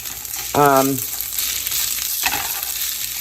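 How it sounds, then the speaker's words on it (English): Vegetables fry in a pan with a steady, close sizzle, while a voice briefly speaks over it near the start. "sorry about the pan making that noise"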